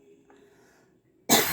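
A single harsh, loud cough bursts out after a stretch of near-quiet room tone, close to the microphone and cut off at the end.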